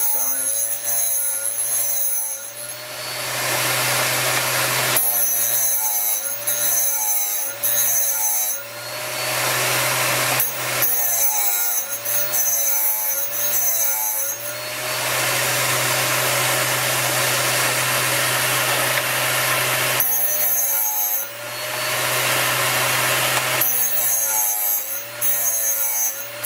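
Drill bit ground against the abrasive wheel of a GD-13A drill sharpener, a loud steady whirring grind broken into repeated short bursts and longer passes as the bit is turned and reinserted.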